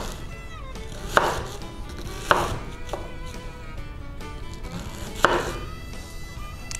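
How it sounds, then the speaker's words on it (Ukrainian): A Mora Garberg knife cuts through an onion, landing three sharp, distinct chops on the board with pauses between them and soft slicing noises in the gaps. "Ріжемо цибулю, ніж мора."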